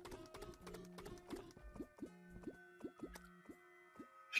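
Water draining in Terraria, a modded video game in an ocean area, heard as a quick run of small dripping, squishy liquid pops with rhythmic gurgles, fairly quiet and alone.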